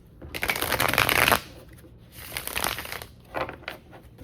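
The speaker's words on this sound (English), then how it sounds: "I'm just going to shuffle this a couple more times." A deck of tarot cards is shuffled by hand in close, crisp riffling bursts: one long flurry, a pause, then two shorter rounds.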